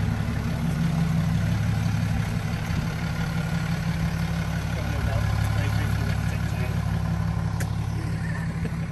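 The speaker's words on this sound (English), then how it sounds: "That's got a Mercedes engine in it." A Mercedes OM613 diesel engine in a 1957 Series 1 Land Rover runs steadily on a dyno with a low, throbbing drone and constant hum, loud and close, with no talking.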